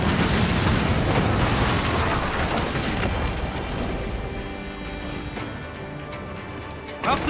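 Mortar fire from a ship in Assassin's Creed Black Flag booms heavily at the start, then fades into a sustained crashing rumble that slowly dies away before a sharp new hit at the end.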